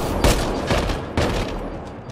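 Rapid gunfire from the sci-fi shooter Mass Effect Andromeda, heavy bursts of shots with a few sharper loud cracks layered over sustained firing, close and dense throughout.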